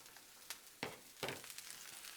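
Onions and peppers hit a hot Blackstone griddle, giving short bursts of sizzling that swell and settle into a steady frying hiss, close and moderately loud.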